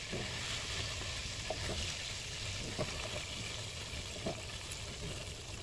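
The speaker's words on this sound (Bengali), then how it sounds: "মুরগির মাংসটাকেও আমি ভেজে নিচ্ছি" Chicken meat fries in oil for a papaya chicken curry, giving a soft, steady sizzle broken by a few small pops and crackles, with no talk.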